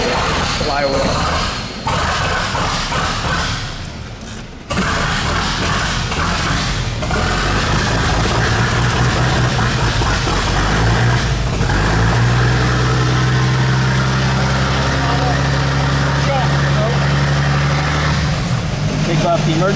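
A 1913 Locomobile Model 48 engine runs loudly and steadily throughout, a continuous mechanical rumble with a low pulsing idle tone emerging later, while people talk over it.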